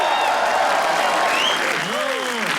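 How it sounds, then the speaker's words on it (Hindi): Loud crowd applause at a comedy roast battle show, steady dense clapping with whistles and cheering rising over it, filling the room throughout. "तालियां प्लीज।"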